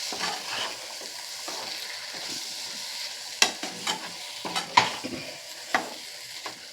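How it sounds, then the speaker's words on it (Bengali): Poppy seed paste and yogurt are stirred in a pan over a low, constant sizzle, with sharp spoon scrapes and knocks growing more frequent toward the end. "টক দইটা দিয়ে কিন্তু আবারও একটু ভালো করে নাড়াচাড়া করে নিতে হবে।"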